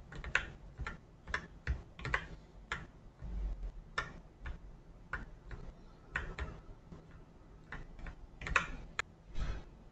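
Computer keyboard arrow keys are tapped while steering a 2D cartoon character's pupils in Photoshop, producing quiet, close, irregular clicks, some single and some in quick pairs, over a low room hum.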